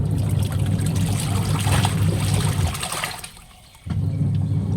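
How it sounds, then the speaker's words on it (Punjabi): Water drains noisily from a freshly washed double-bed blanket, a steady rushing trickle that stops abruptly for a moment near the end before resuming. "ਦੇਖੋ ਹੁਣ ਸਾਫ਼ ਪਾਣੀ ਹੈ ਨਾਲੇ ਦਾ ਪਾਣੀ ਨਿਕਲ ਜਾਣਾ ਹੈ"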